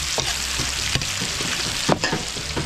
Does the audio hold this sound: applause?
no